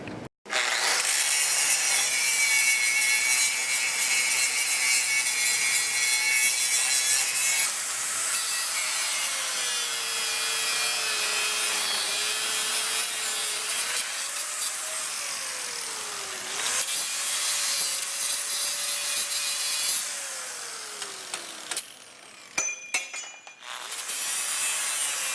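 A masonry cutoff wheel on a grinder slices through stainless steel hinge parts for a gate, giving a loud, sustained high grinding whine with a gliding pitch that shifts as the cut progresses, ending in a few short bursts and clatter.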